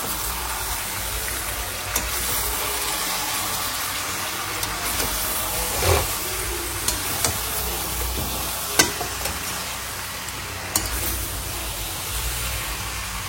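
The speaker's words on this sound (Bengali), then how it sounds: "আর এইদিকে আমি এখন মাংসটা কষাচ্ছি।" Meat sautéing in a pan for a Bengali kosha, with a steady broad sizzle and hiss throughout, punctuated by a few scraping stirs and clinks of a spoon against the pan, fairly close and without talk.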